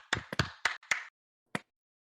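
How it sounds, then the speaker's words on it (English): A handful of sharp claps, scattered and brief, trailing off into silence with one last clap after a pause; sparse, not a full crowd. "Everyone, let's give Carl a round of applause, please."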